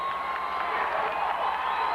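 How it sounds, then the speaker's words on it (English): Oak Ridge basketball fans at a 1998 district finals game cheering and applauding in a gym, a dense steady crowd roar with whoops, loud and continuous. "Oak Ridge fans have something to cheer about."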